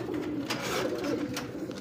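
Racer pigeons at a breeding farm coo in low, throaty murmurs, several overlapping calls rolling steadily through the clip at close range with no talking.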